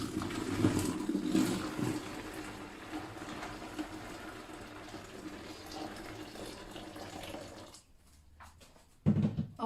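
Boiling water from a just-boiled kettle is poured into a fermenting bin, a steady close rushing splash that runs for about eight seconds and then stops abruptly, with a brief clatter at the end.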